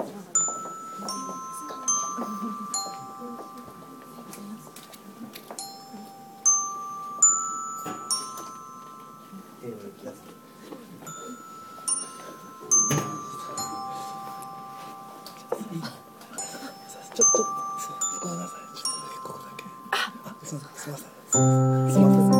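A school-style chime rings out in a live music venue in Namba, its bell-like ding-dong tones repeating in short melodic phrases over steady talking and room noise.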